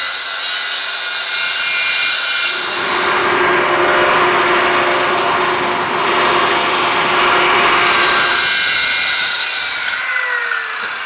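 A saw trims the ends of reclaimed wood dining table boards in one loud, continuous, grinding cut lasting about ten seconds, with a brief change in tone as the blade passes through.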